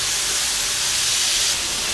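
Pepper steak sizzles steadily in a hot pan as it grills over reduced heat, a dense continuous hiss with no breaks, close and fairly loud.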